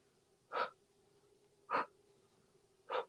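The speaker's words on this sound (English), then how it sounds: "And I'm breathing out." Three sharp, forceful exhalations during an abdominal workout with oblique twists, evenly spaced about a second apart, close and clear with no talking.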